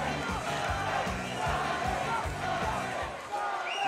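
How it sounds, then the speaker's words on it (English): Boxing crowd after a three-round amateur fight, a dense roar of voices with rhythmic chanting and stamping in regular beats, loud and close throughout. "the crowd are letting everyone know who they thought won"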